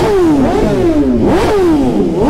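Motorcycle engine revving repeatedly up and down, close and loud, with rising and falling pitch sweeps arriving at an event with loud bikes.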